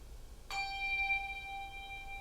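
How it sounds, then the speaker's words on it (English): A handbell is struck once with a bright onset, then swung through the air so its sustained ringing tone lingers and gently wavers in loudness as it moves around a room. "So when we move the bell through space, we are now sending sound waves out and filling up the whole room"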